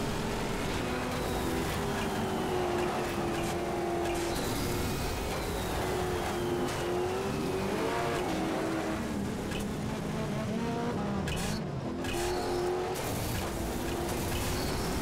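A car drives in the MotorStorm racing game on PS3, its engine droning steadily and rising and falling in pitch as it goes up a slope and slows, with no voices.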